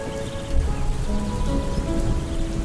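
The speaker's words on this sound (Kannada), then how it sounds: "ಮಳೆ ತುಂಬಾ ಜೋರಾಗಿದೆ" Steady heavy rain pours down, a dense continuous hiss of drops hitting surfaces with no voices.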